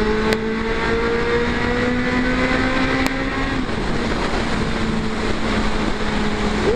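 A Suzuki Bandit 600 four-cylinder motorcycle engine holds a loud, smooth high-revving drone nearby, its pitch steady with slight wavers and a brief rise at the end.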